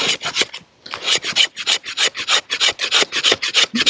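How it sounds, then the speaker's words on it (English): Cheap survival knife blade scraping fatwood to make tinder for a fire, a close, loud series of quick rasping strokes in a steady rhythm, with no talking. "it's doing really good on scraping the fat wood"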